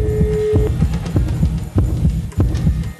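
A loud, close heartbeat sound effect on a television game show thumps in a steady pulsing rhythm with double beats roughly every half second, over a low hum.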